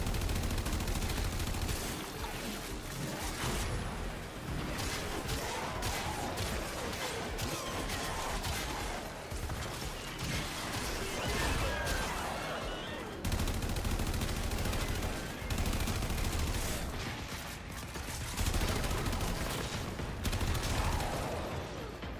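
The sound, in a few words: gunfire from a video game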